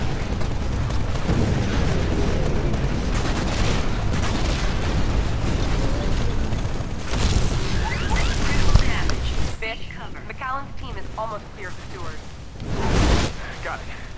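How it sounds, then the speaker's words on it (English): Repeated grenade blasts and booming impacts in the Titanfall video game, loud and dense, with a clattering mechanical din and short lulls between bursts; a voice talks over parts of it. "That's a lot of grenades."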